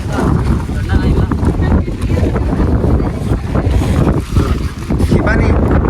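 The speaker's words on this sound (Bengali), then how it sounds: "ওই দেখতেছেন প্রচুর বাতাস" Strong wind roars and buffets the microphone in loud, uneven gusts, with a voice partly audible beneath the blustery noise.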